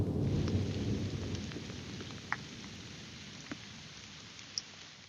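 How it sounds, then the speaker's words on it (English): Steady heavy rain hisses throughout while low thunder rumbles underneath, fading slightly, with a few sharp drips or taps popping out. "It's raining. Can you hear it?"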